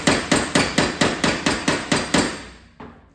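Hammer blows on a 1986 Mazda RX-7 FC fender knocking down high spots, about ten sharp, evenly spaced strikes close up, the last one coming after a short pause.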